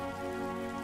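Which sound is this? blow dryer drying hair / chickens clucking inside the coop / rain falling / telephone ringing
rain falling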